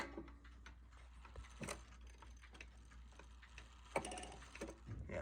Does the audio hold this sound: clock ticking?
yes